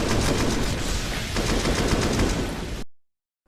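Dense automatic gunfire in a Counter-Strike match rattles on continuously at close range, loud and unbroken for several seconds before cutting to silence.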